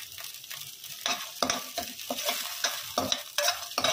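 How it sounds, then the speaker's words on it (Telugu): Veg manchurian with schezwan sauce is stir-fried in a pan: repeated spatula scrapes and tosses over a continuous close sizzle, with no talking. "ఇలా కలుపుకొని కొంచెంసేపు వేయించుకోవాలండి"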